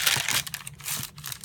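Bubble paper and tracing paper being handled, close crisp crinkling and rustling in quick irregular bursts, fairly loud and with no voices.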